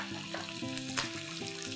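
Diced green capsicum sizzling in a hot pan for chilli idli, with sauces being added, a crackling fry with faint stirring scrapes and a brief clink, close and continuous without talk.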